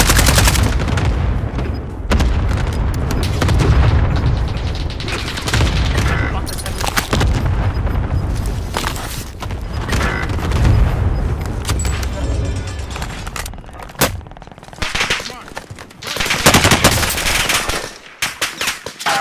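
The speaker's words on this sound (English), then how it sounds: "There's boys to the left shooting at me up this mountain." Sustained gunfire in the battle royale game Call of Duty Warzone, with bursts of automatic fire and single shots crackling loudly and almost nonstop on a mountainside, heavy booms mixed in.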